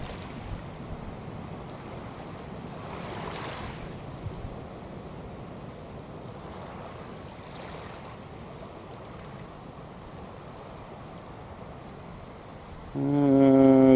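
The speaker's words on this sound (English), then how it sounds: "There's quite a breeze blowing up here. It's blowing in the trees, making a lot of noise." Steady broadband rushing of wind blowing through trees, with gentle swells in strength, followed by a sudden loud buzzing hum at the very end.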